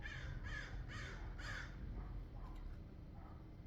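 A crow gives several loud caws in a short series, about one every half second, over a steady low background hum, then fainter calls trail off.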